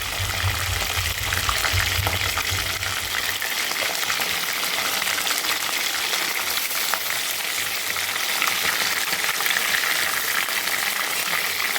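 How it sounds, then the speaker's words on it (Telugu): Fish pieces frying briefly in hot oil, a dense, continuous sizzle with bubbling, steady and close, with a low hum at the start. "ఆయిల్లోనే ఒక్కసారి ఈ చేప ముక్కలు కొద్దిసేపు ఇలా వేసి తీసేయాలండి"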